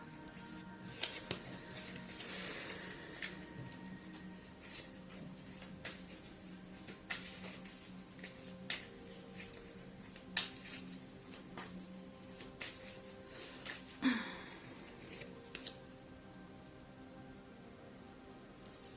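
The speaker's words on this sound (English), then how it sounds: "Well, I shuffled them, guys." Tarot cards being shuffled by hand, a soft, steady papery riffling and patter that runs continuously at close range with scattered small taps, fairly quiet and with no talking.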